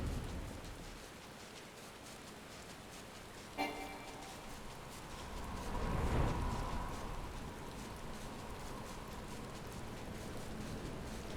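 Rain in Final Fantasy 14 falls as a soft, steady, faint patter, with a single sharp click early on and a low swell of rumble midway.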